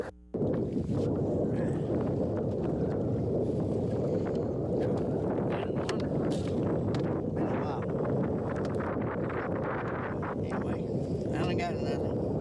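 Steady wind roars across a lake around a small fishing boat, buffeting the microphone in a constant, loud rumble with slight gusting.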